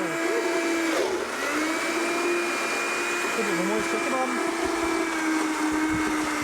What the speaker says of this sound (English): Sometimes the blender stalls, so we just want to give a little bit of a stir.